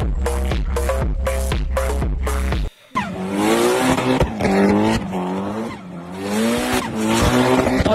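A car in Forza Horizon 5 revs hard in quick, staccato throttle blips, then a short gap and a long rising engine howl with tyre squeal, loud and close with no voices.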